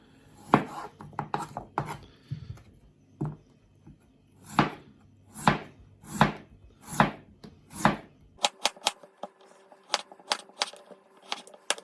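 A knife slicing four potatoes thinly on a board, close sharp cuts in a steady rhythm of about one per second, quickening into rapid clustered knocks toward the end, with no talk.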